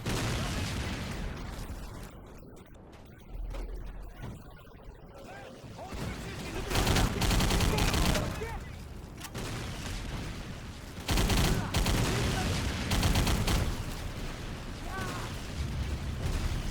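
Video game gunfire while shooting enemies, bursts of loud dense shots and blasts filling long stretches, with quieter gaps between and a voice talking over parts of it.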